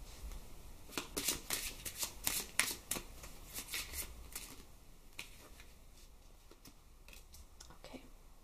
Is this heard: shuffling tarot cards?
yes